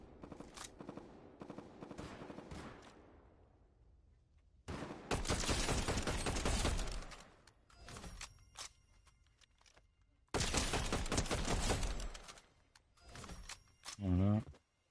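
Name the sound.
gunfire in the video game Fortnite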